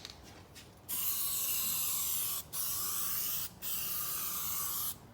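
Aerosol primer sprayed onto caravan steel during a restoration in three long, loud, steady hissing bursts separated by brief pauses, with no talk.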